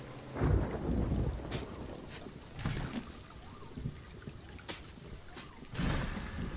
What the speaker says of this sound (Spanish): La tormenta es una pasada, tío.